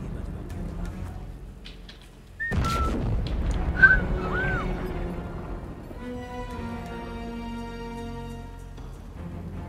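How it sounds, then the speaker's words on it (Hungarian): Human whistling in a Sniper Elite 5 co-op game session, a few short rising and falling whistled notes around the middle, heard over game ambience with booms and a steady tonal hum later. "Hallod a fütyülésemet?"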